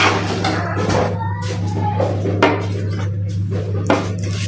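Cooked chicken and vegetable spaghetti being served from a pot onto a dish, with scattered clinks and scrapes of metal utensils over a steady low hum.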